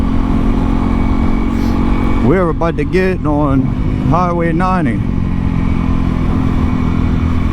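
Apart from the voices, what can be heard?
Honda CRF300L motorcycle with MotoX exhaust riding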